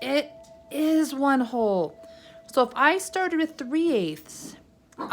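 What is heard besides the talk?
None of the usual background noises is heard.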